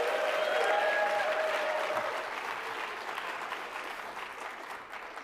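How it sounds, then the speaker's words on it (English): An audience applauding at a youth citizenship awards ceremony, dense sustained clapping that fills the room and slowly tapers off, with a few cheers and whistles early on. "Can I please get another round of applause for Tice Giovagnoni?"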